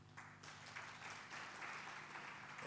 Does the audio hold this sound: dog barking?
no